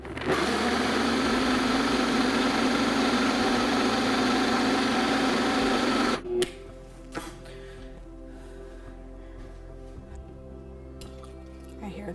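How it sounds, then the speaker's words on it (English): A blender whirs loudly and steadily for about six seconds, blending a green smoothie of microgreens and homemade almond milk, then cuts off abruptly, leaving a low background hum with a few faint clinks. "pop a lid on this and blend"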